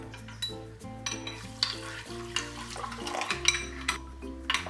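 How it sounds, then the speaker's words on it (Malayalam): Basil seeds being stirred with two tablespoons of sugar and a quarter cup of water, a spoon scraping and clinking around the bowl in quick, close strokes over a steady background of music. "ഇതിലേക്ക് 2 ടേബിൾ സ്പൂൺ പഞ്ചസാരയും ചേർത്ത് 1/4 കപ്പ് വെള്ളം ഒഴിച്ച് ഇതൊന്ന് മിക്സ് ചെയ്ത് വെക്കാം"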